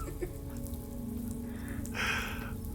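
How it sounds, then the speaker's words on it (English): Steady rain falls in the Death Stranding 2: On the Beach video game, a continuous patter over a low hum that swells louder briefly near the end. "Raindrops are falling."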